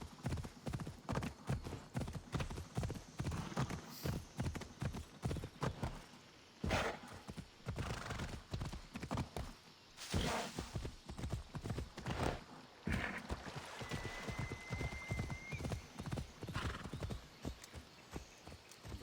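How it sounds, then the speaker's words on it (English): A horse in Assassin's Creed Odyssey trots with a steady, rapid clip-clop of hooves, close and continuous, and a brief whinny partway through. "You're on that horse, baby. Off we go! Riding down."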